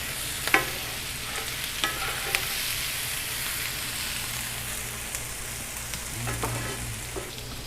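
Winter squash sizzles in brown butter in a pan, a steady close frying crackle with occasional stirring scrapes and clicks.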